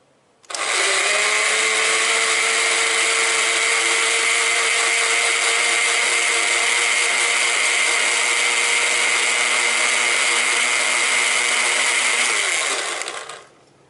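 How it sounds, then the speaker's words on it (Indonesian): An electric blender motor, blending leaves for a traditional herbal remedy, whirs loudly and steadily for about twelve seconds, starting abruptly and winding down at the end, with no voices. "Itu kita blender, ini blender, kita tutup."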